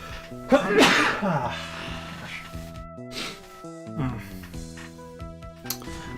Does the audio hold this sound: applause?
no